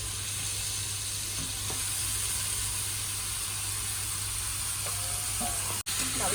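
A steady, continuous sizzle of meat masala frying in a pan, loud and close, with faint clinks near the end.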